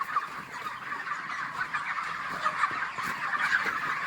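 Dense, steady chatter of many broiler chickens crowding a poultry farm shed, a continuous overlapping din of clucks and peeps at moderate distance with no talk.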